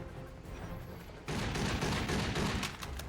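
Gunfire and incoming shell blasts in the spy shooter 007: Blood Stone, a dense, loud barrage of shots and explosions that intensifies sharply midway and continues with sharp bursts.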